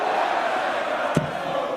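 A packed darts crowd at the 2025 World Grand Prix, during Luke Littler versus Gian Van Veen, keeps up a steady, roaring murmur, with one brief, sharper burst of noise standing out midway.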